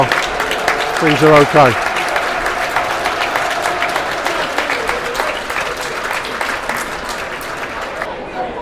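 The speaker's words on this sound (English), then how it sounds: "Applause." Millwall crowd applauding at the ground during a stoppage for medical treatment in the Millwall v Reading match, broad, sustained clapping from many fans with a short burst of nearby talk early on.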